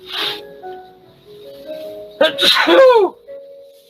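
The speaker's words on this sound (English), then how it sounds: "Uh-oh, I think I'm going to sneeze." A single sharp sneeze bursts out near the end, preceded by a short inhale and some soft vocal sounds, close and loud.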